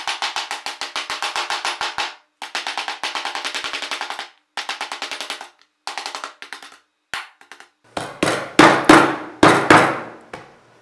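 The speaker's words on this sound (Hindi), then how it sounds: "अब हम इसे अच्छे से ठोक ठोक के इसको कुचलेंगे ताकि ये बहुत ही अच्छा फ्लेवर रिलीज।" Lemongrass stalks pounded to crush them while cooking Thai tom yum shrimp soup: bursts of rapid, evenly spaced thuds in quick runs with short pauses, ending with several louder, heavier whacks.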